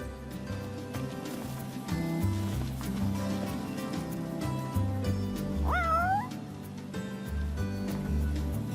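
A cat in the video game Final Fantasy XV gives a single short, rising meow partway through, heard over continuous low background game music.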